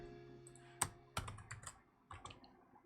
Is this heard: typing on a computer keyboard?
yes